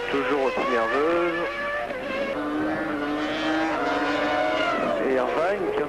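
A 1996 Formula 1 car on track during qualifying at the Argentine Grand Prix, its high engine whine rising and falling through gear changes under continuous commentary.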